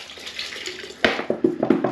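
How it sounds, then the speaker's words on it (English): Hot water splashes and gurgles into a bucket, starting abruptly partway through with a burst of pouring followed by uneven sloshing pulses, close and fairly loud after a quiet start. "Bucket of hot water."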